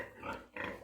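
A piglet gives a short, close snuffling grunt, quickly followed by a second, softer grunt.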